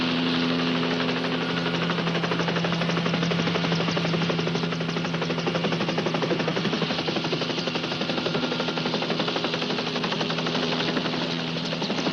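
A helicopter flies close by during a police standoff, its loud, steady rotor thump and engine roar filling the whole stretch without a break.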